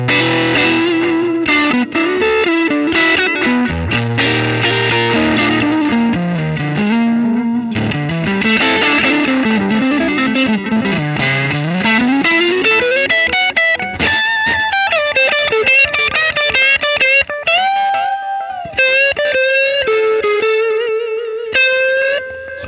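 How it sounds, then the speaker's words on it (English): Electric guitar, a Stratocaster through a Xotic Effects EP Booster pedal, played alone, boosted and slightly distorted, with bending lead lines and sustained notes that ring out, loud and close. "That's the sound of the EP booster."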